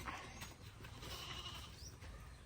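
A young goat kid bleats faintly at a distance outdoors, a few thin calls over a low, steady background hiss.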